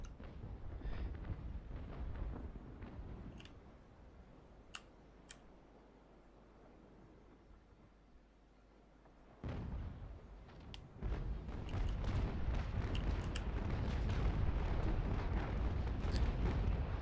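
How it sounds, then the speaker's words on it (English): Ship cannons firing balls in a Naval Action naval battle, distant booming shots over a low background rumble, with a louder burst of cannon fire toward the end. "So yeah, they're firing balls."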